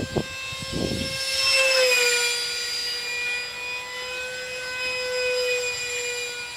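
A small electric ducted-fan F-86 Sabre park-flyer RC jet passes overhead at half throttle, a steady high whine that swells and shifts pitch as it flies by, with no talk.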